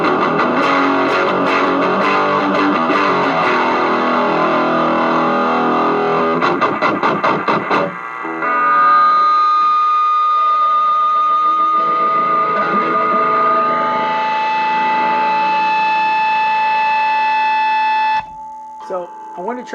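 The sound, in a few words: electric guitar through Ghoul Screamer and heavy metal pedals with feedback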